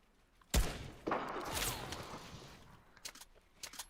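Gunfire from the Fortnite video game, shown during an FNCS Finals viewing party: a loud sharp burst at the start, a second strong hit about half a second later, then a longer noisy tail with fainter clicks and pops following.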